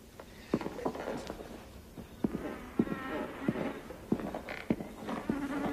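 A mosquito whines and buzzes close by, wavering in pitch, mixed with scattered knocks and thumps in an outdoor scene.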